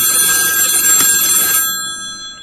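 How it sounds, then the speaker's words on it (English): A telephone ringtone rings loudly and alone with a bright, tonal electronic trill, then stops and leaves a brief fading tail. "Could you please answer that phone?"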